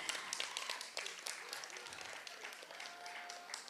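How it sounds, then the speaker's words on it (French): Faint, scattered applause rises from an audience at a school prize-giving ceremony for student journalists, a thin patter of hand claps heard from a distance with voices mixed in. "on applaudit sous vos applaudissements"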